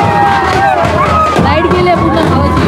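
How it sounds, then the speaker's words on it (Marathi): Villagers cheer and shout in a loud, continuous crowd roar while dancing the palanquin at a night-time Shimga (Holi) festival in a village, dense babble with rising whoops throughout. "या गावकऱ्यांचं जल्लोष बघा"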